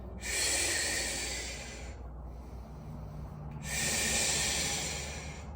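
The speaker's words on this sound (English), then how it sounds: "So nice deep breath in again as you breathe out." Slow, deep breaths during a Pilates exercise, two long airy inhales or exhales close to the microphone separated by a brief pause, quiet and unhurried.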